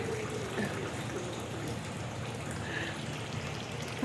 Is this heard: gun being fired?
no